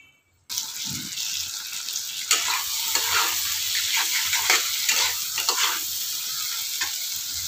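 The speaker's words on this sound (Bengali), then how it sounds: "ভালো করে মশলাটা আমি কষে নেব" Steady sizzling of spice masala with tomatoes frying in a hot pan, with occasional scraping stirs, continuous and close, no voices.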